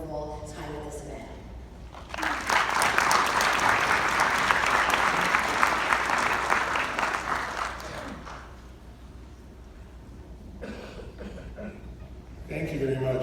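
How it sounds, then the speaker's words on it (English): A conference audience breaks into applause lasting about six seconds, rising quickly and then fading, with a speaker talking before and after. "Can we give our sponsors another round of applause, please?"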